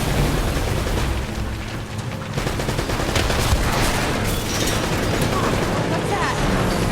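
Dense, loud barrage of gunfire and booming rocket-launcher explosions in the action game Uncharted: Drake's Fortune, continuous and chaotic throughout, with a voice shouting over the din.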